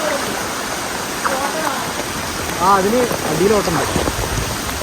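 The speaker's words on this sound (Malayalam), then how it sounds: "നല്ല മഴയാണ്, ഒടുക്കത്തെ മഴ." Heavy, steady rain pours down outdoors during a flood, a dense hiss of water continuing throughout while a person talks over it.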